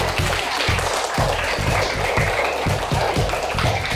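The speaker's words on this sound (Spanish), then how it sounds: "¡Un aplauso" Applause at an award ceremony for a state drawing contest, a dense wash of clapping with a rapid rhythmic pulse of thumps underneath, steady and fairly loud throughout.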